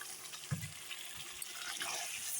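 A little water is poured into a mixing bowl, starting with a brief soft splash and then a faint, steady trickle, close and quiet.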